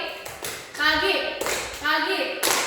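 Classroom students clapping in a call-and-response clap-pattern game, sharp bursts of claps separated by a teacher's voice speaking in between.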